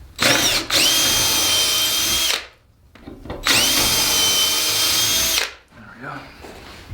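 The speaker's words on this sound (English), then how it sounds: "Make sure you pre-drill." A power drill pre-drills through plyboard while a cat scratch post is built, giving two loud, steady whirring bursts of about two seconds each with a short pause between them.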